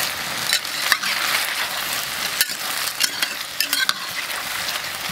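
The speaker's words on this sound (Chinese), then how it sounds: "翻炒一下" Braised soft-shell turtle is stir-fried in a wok, a loud continuous sizzle broken by repeated sharp scrapes and knocks of the spatula, close by with no talking.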